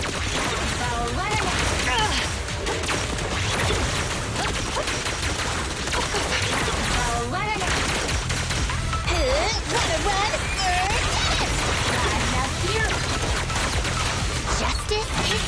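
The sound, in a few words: sustained gunfire in the video game Zenless Zone Zero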